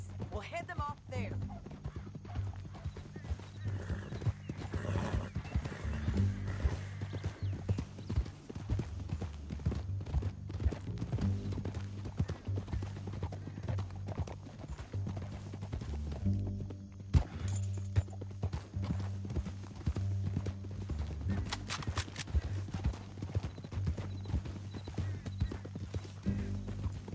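Horse hooves clip-clop steadily in the video game Red Dead Redemption 2, a continuous rhythmic walking gait under game music and occasional spoken dialogue throughout.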